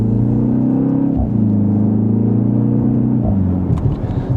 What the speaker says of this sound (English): And quick acceleration